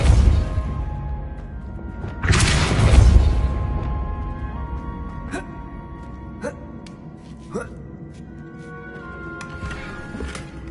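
A Bombarda spell explosion in the Hogwarts Legacy video game: one loud, rumbling burst that swells and fades over about a second, followed by fainter game clicks and thumps over a steady low background.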